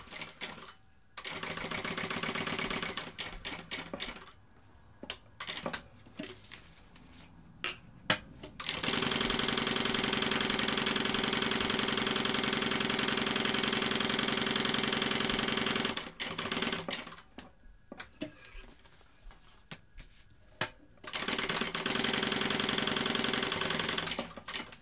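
A sewing machine basting two layers of fabric together for a bag, running in long steady bursts of rapid stitching with short pauses and stop-start taps between them.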